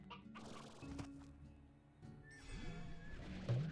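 Clucking of an elder rooster in the video game Slime Rancher, a few short fowl calls and squawks over a busy game soundscape, fairly near and moderately loud.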